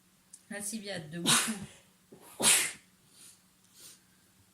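A person gives two sharp, close sneezes during a spoken reading of a philosophical dialogue. Talking comes before them and quiet breathing follows.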